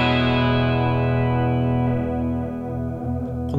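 Electric guitar played through the chorus effect of a Blackstar ID:CORE v3 amplifier, with deep modulation depth. Sustained, shimmering chords ring out loud and steady, fading slightly near the end with a few picked notes and no voices.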